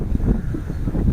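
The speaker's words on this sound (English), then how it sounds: "It is very breezy out here this morning" A breezy morning wind blows on the North Carolina coast before Hurricane Florence, buffeting the microphone with a loud, low, gusty rumble that rises and falls without pause.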